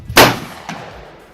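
Rifle shot at an outdoor shooting range: one sharp, loud blast that decays quickly, then a fainter second crack or ring and a fading tail.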